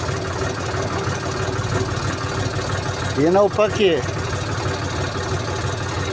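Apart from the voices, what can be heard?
tractor engine running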